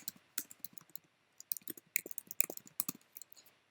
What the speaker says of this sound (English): And I'm going to type in food packaging.